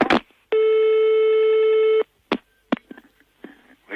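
A telephone gives one long, loud electronic ring tone lasting about a second and a half, followed by short clicks and handling noises.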